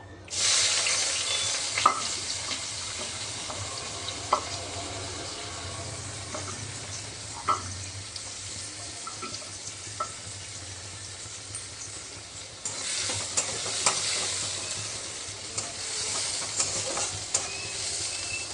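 Katla fish frying in oil in a pan, a steady broad sizzle and hiss with occasional stirring clicks, growing louder and brighter in the latter part, close by with no talk.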